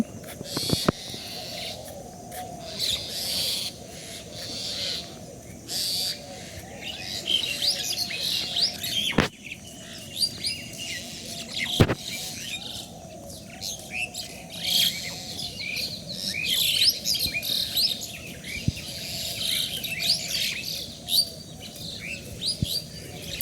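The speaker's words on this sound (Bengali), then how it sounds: "দূরে দেখতে পাচ্ছেন গাছগাছালিতে পাখিগুলো কি কিচিরমিচির শব্দ করতেছে।" A dense chorus of many birds chirps and calls from trees at early-morning sunrise in rural Bangladesh, with a steady layered twittering and a few sharper, louder calls standing out near the listener.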